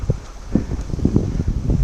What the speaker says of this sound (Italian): Oh, vento contro anche adesso, mannaggia!